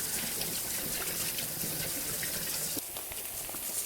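Water runs steadily from a kitchen tap as hands are washed, a close, continuous splashing stream with a slight change in tone near the end.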